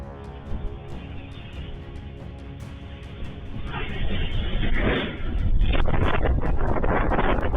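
A strong gust of wind roars against the microphone, building in force partway through with rough buffeting that carries loudly to the end.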